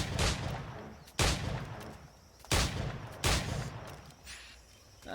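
Sharp, loud gunshots ring out at shooting targets in Assassin's Creed IV, four separate blasts spaced about a second apart, each with a booming tail, close and with no talk.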